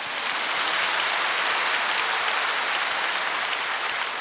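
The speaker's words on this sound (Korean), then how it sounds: "하나님께 한번 박수 하십시다" A church congregation claps together during a sermon, a dense, steady wash of applause filling the space evenly and continuously with no speech over it.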